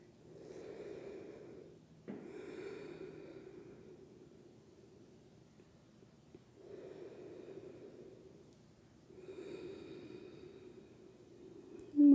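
Slow, deep breaths during a yoga stretch, with three audible airy inhale-exhale cycles close to the microphone and quiet pauses between them.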